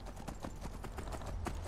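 Horse galloping in the Skyrim video game, a steady rapid run of hoof clip-clops across the whole stretch, moderately loud and close, with no talking over it.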